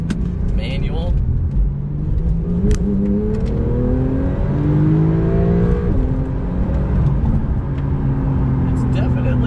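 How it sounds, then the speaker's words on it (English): A Porsche 991.2 Carrera 4S with a manual gearbox in Sport Plus mode, heard from inside as the engine drones and revs under acceleration, rising and shifting pitch through the gears at steady loudness. "So let's take her on a drive and see how it compares to the base 911."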